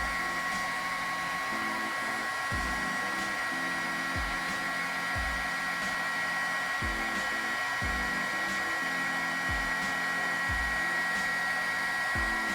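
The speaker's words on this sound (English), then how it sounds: "So when you get ready to apply your heat tool" Heat tool blasting hot air onto a stamped cardstock tag, a continuous close whooshing roar with a steady whine, plus faint intermittent low knocks and shifts beneath it.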